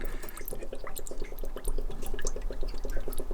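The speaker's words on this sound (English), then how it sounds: "That's to allow it to fill with water once it's placed in the tank." Water filling the float of a flush-down toilet seat as it sits submerged in the toilet tank, a steady burbling of rapid bubbles and trickling under continuous running water, close and moderately loud.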